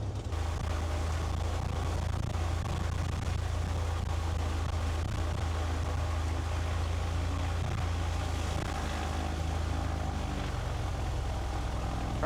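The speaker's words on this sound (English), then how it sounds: "let's do the engine run up" Small airplane engine run-up before takeoff, a Skylane heard from inside the cabin as a steady loud low droning engine rumble throughout, with no talk over it.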